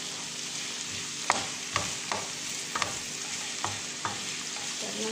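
Chili, garlic and ginger fried and stirred in a pan, with a steady low sizzle broken by a series of distinct scraping and tapping strokes of a spoon against the pan, close and moderately loud, no voices.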